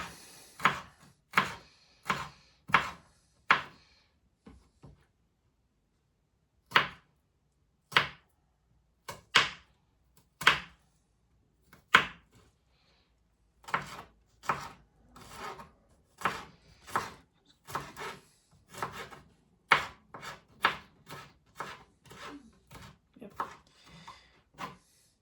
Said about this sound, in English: I'm just going to finely chop that.